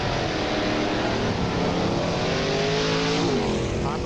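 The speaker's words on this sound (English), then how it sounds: "listen to him jam those gears as he goes down the track" A street-legal drag car with a manual transmission roars down the dragway at full throttle, its engine note dropping and climbing again as gears are jammed through, loud and continuous.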